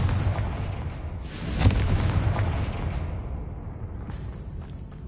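Confringo blasting curse going off inside a decayed ruin in Hogwarts Legacy: a deep rumbling blast with a sharp burst near the start, fading into a long trailing roar.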